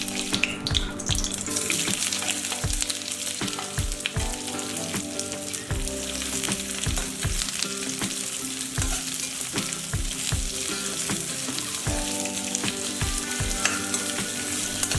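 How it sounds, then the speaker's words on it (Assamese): Chopped onions and three bay leaves fry in hot oil in a wok, giving a steady, dense sizzle throughout with repeated low thumps and scraping as the mixture is stirred; no talking. "এতিয়া তাত মই তেজপাত 3টা আৰু কাটি ৰখা পিঁয়াজখিনি দি দিলোঁ।"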